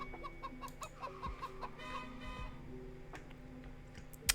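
Chickens in a farm video game give a quick series of short, evenly spaced clucks, then fall quiet over faint game ambience and soft clicks.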